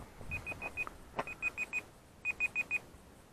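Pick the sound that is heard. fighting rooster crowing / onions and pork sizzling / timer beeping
timer beeping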